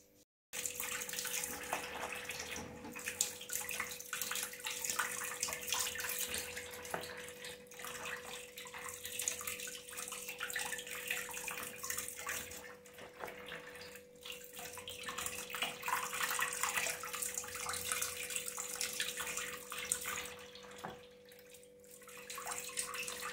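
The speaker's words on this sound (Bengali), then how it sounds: "এবার দেখো ডিমগুলো সব ধুচ্ছে।" Tap water runs steadily over eggs being washed in a sink, a continuous splashing rush with slight shifts in flow, no voices.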